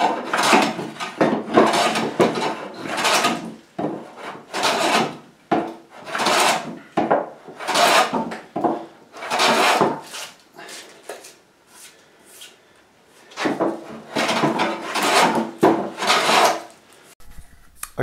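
Maple wood for a guitar body being hand planed, with repeated long rasping strokes in bursts and short pauses between them, loud and close with no talking.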